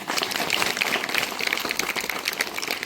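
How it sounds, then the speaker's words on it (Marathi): A school gathering applauds its directors, a dense patter of many hands clapping steadily and fairly loud throughout, with no speech over it. "सगळ्यांनी एकदा या संचालकांसाठी टाळ्या वाजवायच्या"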